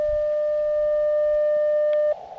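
Steady CW sidetone from an Elecraft KX2 QRP radio, a single continuous pure tone held for about two seconds before cutting off into noisy band hiss with interference.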